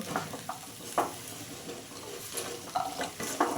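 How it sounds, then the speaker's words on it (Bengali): Onions frying and being stirred in a pan alongside spring onion greens, a steady close sizzle broken by several short scraping stirs at irregular intervals, with no voices. "ভালো করে পেঁয়াজগুলিও এর সঙ্গে"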